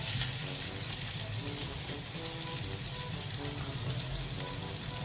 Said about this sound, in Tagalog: mainit na po yung mantika, ilagay na po natin ang luya